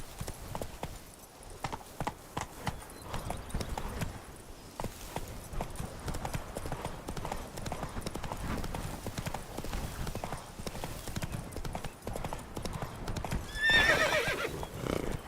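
Horse in The Witcher 3 video game trotting with steady, rhythmic clip-clop hoofbeats throughout, then giving a clear whinny near the end, moderately loud.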